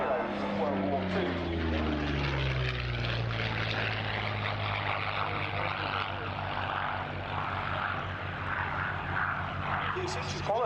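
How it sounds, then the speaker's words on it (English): Yakovlev Yak-3 piston-engined World War II fighter flying past, a steady loud propeller drone with a falling pitch sweep as it passes, continuous throughout with talk over it. "the Yakovlev Yak 3, part of a lengthy family of Yak piston engine fighters"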